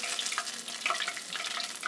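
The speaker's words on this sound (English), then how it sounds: "Already see how it's bubbling up." Battered fish hisses and crackles in hot frying oil for homemade fish and chips, a dense, steady sizzle that runs close and unbroken throughout, with no talking.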